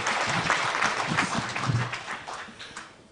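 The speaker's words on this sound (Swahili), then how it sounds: "Makofi mazuri tafadhali" A church congregation applauding during a service attended by the Archbishop, with dense, sustained clapping from many people that swells and then gradually thins toward the end, heard at moderate distance.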